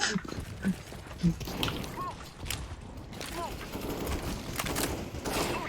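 Gunfire in CS:GO competitive play, scattered sharp shots with bursts across the clip, mixed with game noise and players talking over it.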